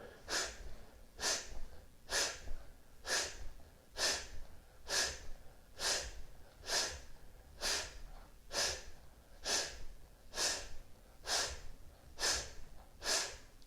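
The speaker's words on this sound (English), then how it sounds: "we're making the sound of a piston. Inhaling through the nose, exhaling through the mouth" Rhythmic yoga breathing, each breath drawn in through the nose and pushed out through the mouth in a forceful piston-like puff, repeating steadily about every half second to second, close and clear with no talking.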